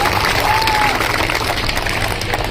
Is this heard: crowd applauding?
yes